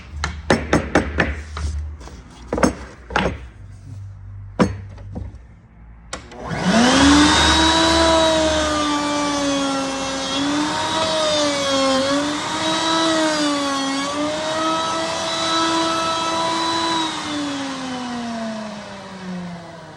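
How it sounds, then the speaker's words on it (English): A handheld router with a large bit cuts a flush-mount aero port hole in a wooden subwoofer box: several sharp taps first, then a loud, close, high whining motor that wavers in pitch as it bites through the wood. "this is one of the most scariest router bits in our industry"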